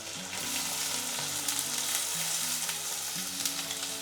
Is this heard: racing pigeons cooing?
no